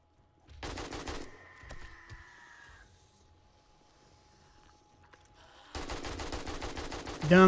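Loud bursts of automatic gunfire in 7 Days to Die during a horde night, one burst near the start, a quiet gap, then another sustained burst at the end.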